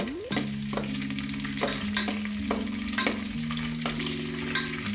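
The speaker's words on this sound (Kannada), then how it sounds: "ಇದು ಸ್ವಲ್ಪ ಫ್ರೈ ಆಗಿದೆ ಎಣ್ಣೆಯಲ್ಲಿ" Oil sizzles steadily as ingredients fry for chicken donne biryani, with a soft continuous crackle broken by sharp, regular stirring clatters about every half second, alongside faint low tones.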